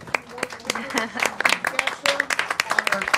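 A crowd claps in a burst of applause, sharp overlapping hand claps with a voice talking over them.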